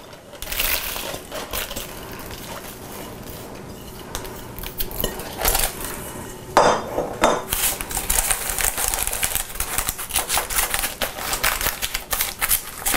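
Graham-cracker-style cheesecake crumb crust pressed firmly into the bottom of a cake pan, with close, busy scraping, tapping and clinking of a utensil against the metal pan, in irregular bursts and no talking.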